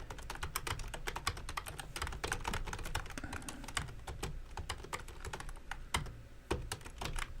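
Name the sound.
typing on a computer keyboard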